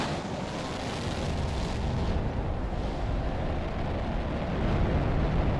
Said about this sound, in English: Okay, the bombardments are over with.